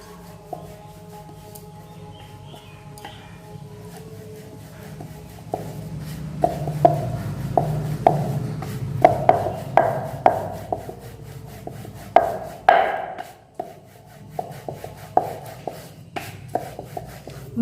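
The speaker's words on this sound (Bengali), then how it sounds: "বড় একটা রুটির সাইজ করে বেলে নিতে হবে।" A rolling pin working luchi dough for Bengali padma luchi in a village kitchen: soft rubbing at first, then a run of close, irregular wooden knocks and taps as the dough is rolled out, with no talking.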